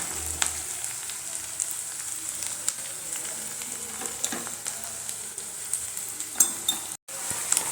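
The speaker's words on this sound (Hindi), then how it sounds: "यहाँ पे जो मसाला है वो भी हाई फ्लेम पे ही भूनना है" Masala fries on high flame in a pan, a steady bright sizzle with scattered clinks and scrapes of stirring, close and continuous without talk.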